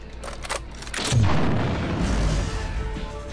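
An EMP grenade goes off in System Shock 2, a single deep boom swelling in about a second in and rumbling on as a loud, sustained blast.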